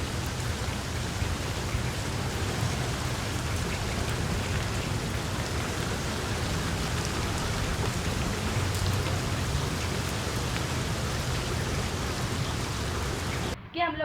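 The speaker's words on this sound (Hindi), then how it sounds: "बारिश बहुत ज्यादा तेज हो गई।" Heavy rain hammers a car on the Kashmir Highway between Pindi and Islamabad while driving, a dense, steady roar of drops on the roof and glass that continues without pause and stops abruptly near the end.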